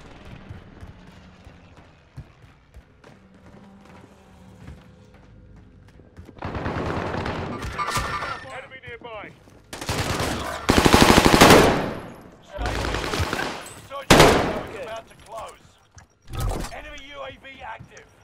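Loud machine-gun bursts rattle in Call of Duty Warzone after a quieter opening, with several intense volleys separated by short gaps while a voice talks over the action.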